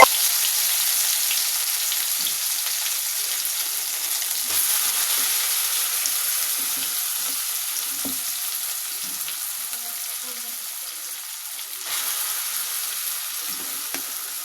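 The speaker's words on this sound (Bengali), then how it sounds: "আমরা আস্তে আস্তে আমলকির আচারের অংশগুলো কড়াইতে দিয়ে দিচ্ছি।" Pieces of amla (Indian gooseberry) pickle fry in hot oil in a kadai, giving a continuous close sizzle with occasional soft stirring clinks throughout.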